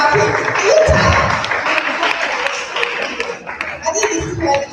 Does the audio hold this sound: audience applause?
yes